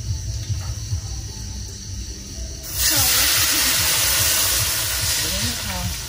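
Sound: water added to pot on stove for sour soup

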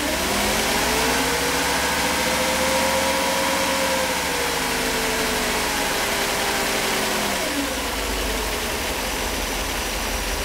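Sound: Mercedes 500SL engine idling

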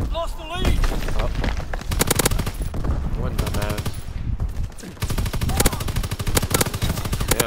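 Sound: gunfire in Call of Duty WW2 video game

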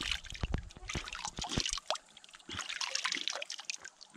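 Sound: spring-fed stream water flowing

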